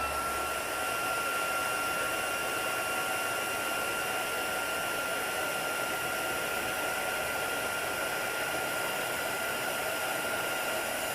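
A craft heat tool blows hot air over stamped embellishment work, a loud, steady whirring hiss with a fixed whine that holds without change, with no talking.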